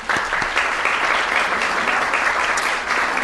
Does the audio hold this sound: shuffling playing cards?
no